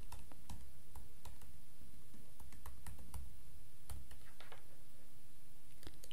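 Typing on a computer keyboard while entering login credentials, a steady run of close, light key clicks with short pauses and no talking.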